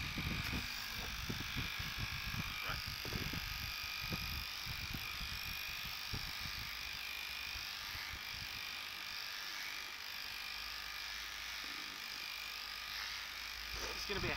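An electric head trimmer buzzes steadily and close while cutting hair, a continuous high whine under rustling and handling noises, with brief voices early on.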